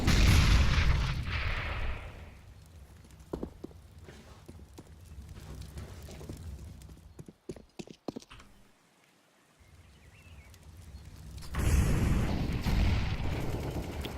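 Grenade blasts in a Counter-Strike match as the terrorist side pushes up Banana: loud booming bursts open and close the stretch, with a cluster of sharp cracks in the middle and quieter rumbling between.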